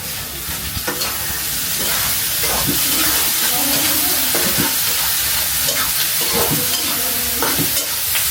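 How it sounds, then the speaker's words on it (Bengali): Onions fry in a pan in a home kitchen while being stirred. A loud, continuous sizzle carries scraping stirring strokes, with faint voices in the background. "পেঁয়াজটা একটু ভাজা ভাজা হবে না?"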